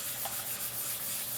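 Light sanding of a slippery, polished guitar finish with a 320-grit sanding sponge on an Aria Pro II body, a steady soft hiss of rubbing strokes close up, alone.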